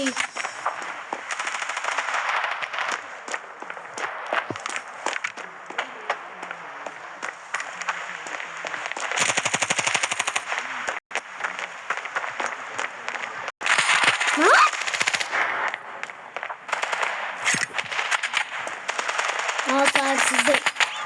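Rapid automatic gunfire from the Standoff 2 video game rattles almost continuously in loud bursts with brief gaps, while a player talks over the shooting.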